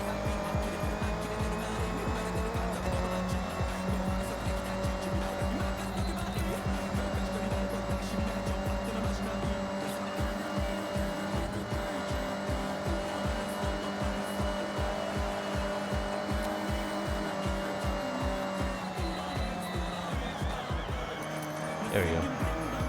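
An engine drones continuously as a car is driven in Forza Horizon 5, its pitch shifting with throttle and faint tire squeal mixed in, while a person talks over the game sound.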